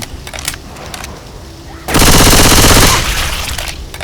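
Rapid automatic gunfire in the zombie shooter Left 4 Dead 2, a loud dense burst of about a second that tails off into lingering game noise, following quieter in-game sounds.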